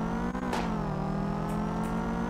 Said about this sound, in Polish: Jedziemy z Subaru Imprezą.